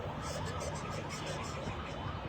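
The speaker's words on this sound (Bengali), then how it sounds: "দর্শক, আশা করি আপনারা শব্দ শুনতে পাচ্ছেন যে ফায়ার সার্ভিসের গাড়িগুলো কিভাবে যাচ্ছে।" Sirens from fire service trucks and ambulances racing to a fire in the cargo section of Dhaka airport, wailing continuously and steadily through faint, distant street noise.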